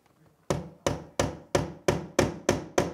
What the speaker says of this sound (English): we will put our finishing nails and just hammer it in